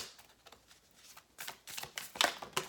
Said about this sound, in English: Let's start shuffling.